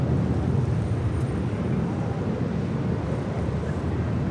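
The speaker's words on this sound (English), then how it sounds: "Taking off to Miami, Florida on an A321, JetBlue Airways 2985." Steady broadband roar of a JetBlue Airways Airbus A321 jet taking off at LAX, a continuous rumbling engine wash heavy in the low end and holding level throughout, with no voices over it.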